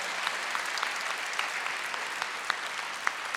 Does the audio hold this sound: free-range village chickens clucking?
no